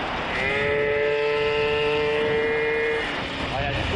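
A moped fitted with a 75cc AV10 kit accelerates, its two-stroke engine note rising in pitch steadily for about three seconds before easing off, loud and close throughout.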